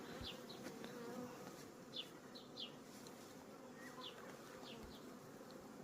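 Honey bees at an apiary with honey-filled frames, a steady low buzz close by with individual bees droning past now and then, no voices.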